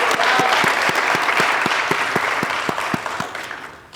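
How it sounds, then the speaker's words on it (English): Sustained audience applause at a fire science academy graduation ceremony, dense and full from a sizable crowd, with steady clapping that gradually thins and fades toward the end. "If we could clap it up for that."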